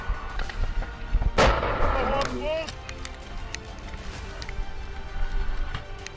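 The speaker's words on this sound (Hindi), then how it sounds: "तुरंत विस्फोट होता है।" A loud blast-like burst from explosives set on an Israeli tank, with rumbling, crackling noise around it and a voice talking over it.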